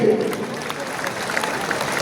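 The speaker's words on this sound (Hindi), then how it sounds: "जोर से बजती रहनी चाहिए हमारी तालियां" Audience applause at a Teli community honour ceremony, a steady broadband clatter of many hands filling the two seconds, with a voice speaking over it.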